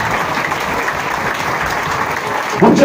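A congregation in a church hall claps and cheers steadily, a dense, loud wash of applause throughout that swells briefly near the end.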